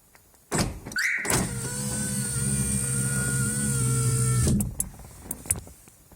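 Close and loud, a Mazda 626's power windows hum in one continuous whine for about four seconds as they close automatically after the car is double locked, then stop with a few clicks.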